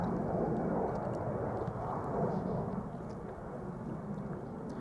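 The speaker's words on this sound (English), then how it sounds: "A350 from Finnair is coming this way, folks" A Finnair Airbus A350 taxiing at Amsterdam Schiphol on a sunny day gives a steady, broad low engine roar that fades slightly toward the end, with no voices.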